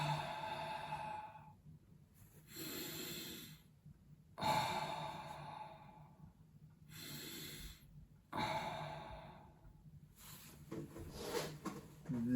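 Deep, slow breathing during a belly-focused breathing exercise: several close, unhurried inhales and exhales alternate in a steady rhythm, with short pauses between them and no talking.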